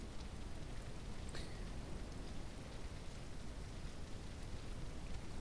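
Steady rainfall in the farming video game Ranch Simulator, a dense, even hiss of drops with no break or voice.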